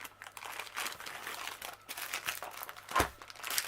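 A plastic bag crinkles and rustles close up as a packaged diamond painting kit is tugged out of it, with irregular soft crackles and one sharper crunch near the end.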